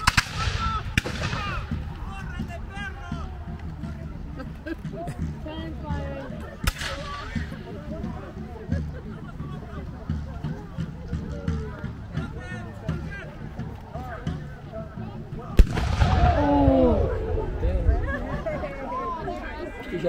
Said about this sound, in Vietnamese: Bên kia bắn kìa, bùm kìa